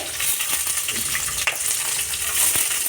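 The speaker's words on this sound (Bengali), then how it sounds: "এবার রসুনগুলো দিয়ে দিতে হবে মানে গোটা রসুনগুলো দিয়ে দিতে হবে" Whole garlic crackles and sizzles in hot oil, a loud steady frying hiss with a few stirring scrapes.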